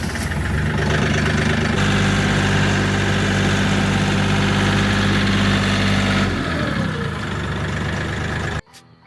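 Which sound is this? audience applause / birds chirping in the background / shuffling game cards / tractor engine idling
tractor engine idling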